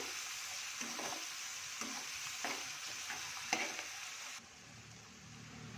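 Egg bhurji tempering stirred in a frying pan, a continuous sizzle with several scraping spatula strokes at intervals before the frying noise drops off near the end.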